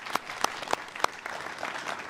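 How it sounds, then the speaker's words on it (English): Graduation audience claps warmly for Armand and his team, a steady patter of many hands with a few sharper nearby claps standing out, loud and continuous throughout. "So a hand of applause for Armand and his team."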